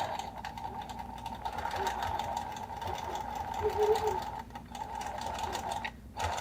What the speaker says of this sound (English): we can go ahead and start sewing